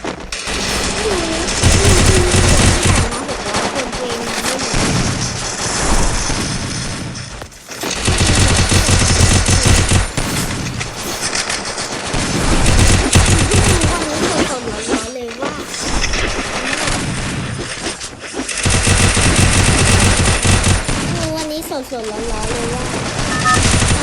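Rapid gunfire from the video game Free Fire rattles almost nonstop in loud bursts with brief gaps, while a player talks over it.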